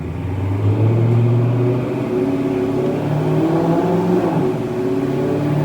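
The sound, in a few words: Dodge 392 Scat Pack car accelerating, shifting to sixth gear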